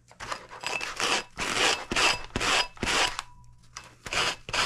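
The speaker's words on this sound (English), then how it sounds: "I'm just sanding down all this rough stuff at the top" A worn sanding block scrubs the rough, textured UV resin rim of a clear wine glass in rapid back-and-forth strokes, about a dozen raspy passes in a steady rhythm, close and alone.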